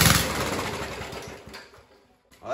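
A Rover lawn mower engine, dumped curbside and freshly primed, sputters into a short run, its rough mid-pitched chug fading and stumbling near the end before a brief final burst.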